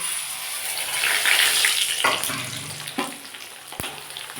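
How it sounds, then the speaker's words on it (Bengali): Sago pearls (sabudana) fry in hot oil, a close, steady sizzle with a few knocks and scrapes of stirring, fading slightly toward the end. "এবার এর মধ্যে আমি সাবুদানাগুলো দিয়ে ভেজে নেব"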